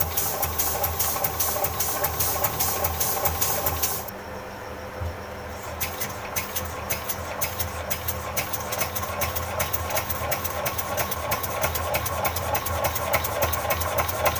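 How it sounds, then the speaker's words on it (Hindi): A homemade steam engine built from a sewing machine runs steadily with rapid, even mechanical chugging that briefly drops quieter before resuming at a fast, loud, regular beat. "जैसे जैसे स्टीम का प्रेशर बढ़ता जा रहा है, इंजन की स्पीड भी बढ़ती जा रही है"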